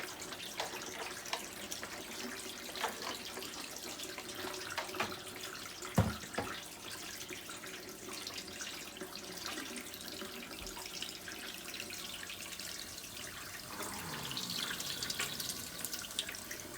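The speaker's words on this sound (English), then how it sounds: "I'm going to let everything that is still in the rollers kind of drain back into the basin" Water from a foot spa draining out of the rollers back into the basin, a soft continuous trickle and splashing with a few drips and faint knocks, fairly quiet throughout.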